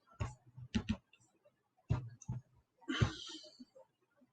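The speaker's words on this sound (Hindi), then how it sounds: "चलो मैं ही टाइप कर देता हूँ टेलीग्राम लिंक।" Keys on a keyboard clatter in uneven bursts of quick clicks separated by short pauses. The typing is close but faint, with no talk.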